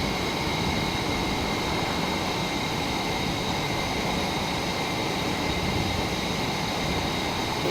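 A MiG-29 Fulcrum jet taxiing at RAF Valley in a flight simulator game, its engines giving a steady, loud, continuous roar and whine that holds unchanged throughout with no talk over it.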